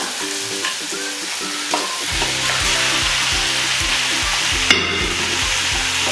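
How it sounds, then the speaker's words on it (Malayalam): Washed chicken pieces tossed into a spiced masala for chicken varattiyathu, frying with a loud, continuous sizzle while a spoon scrapes and stirs through it, over a low droning hum. "ഇതിനകത്തോട്ട് കഴുകി വെച്ചിരിക്കുന്ന ചിക്കൻ കഷ്ണങ്ങൾ നമുക്കിടാം"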